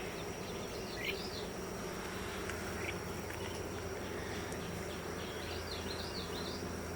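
Honeybees hum steadily around an open, thriving hive during an inspection, a soft continuous buzz with a few individual bees droning close by now and then, and no talk.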